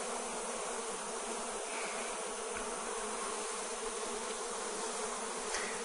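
Honey bee colony buzzing steadily inside a hive a week after the queens were released, with wax combs under construction; a dense, continuous hum fills the clip close up, with no talking.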